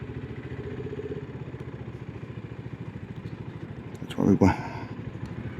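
A retro cafe racer motorcycle on a test ride gives a steady, throbbing engine drone heard from the saddle, with a brief louder burst near the end while a rider speaks over it.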